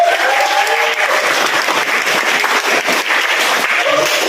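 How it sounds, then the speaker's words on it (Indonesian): A high school class of students claps together in their classroom at the teacher's request, a loud, dense and continuous burst of many hands clapping close by, lasting several seconds. "Tepuk tangan dulu"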